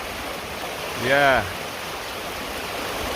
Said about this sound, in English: it's so nice to hear the sound of the water.